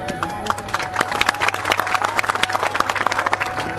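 Audience clapping breaks out during a political speech, a crowd of hands giving a sharp, rhythmic burst that carries on steadily, with some voice sounding underneath.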